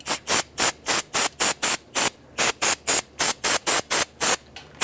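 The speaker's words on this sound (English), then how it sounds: "Clean the residual oil off of the motor." About seventeen short, even bursts of spray or scrubbing repeat in a quick steady rhythm up close while residual oil is cleaned off the engine of a 2004-2009 Dodge Durango.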